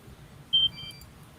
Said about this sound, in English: Now it seems like it's just beeping now. So now it's in the bind mode.